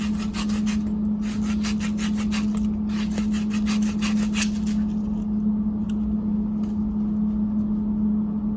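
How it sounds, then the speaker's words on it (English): Sandpaper rasps against the end of a corroded copper pipe in quick, rhythmic rubbing strokes that stop partway through, over a steady low background hum. "Okay, we'll sand this."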